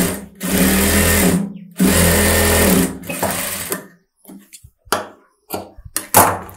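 A sewing machine stitches the side seam of a close-neck blouse in two long, loud continuous runs, then a few short bursts of stitching with brief pauses between them.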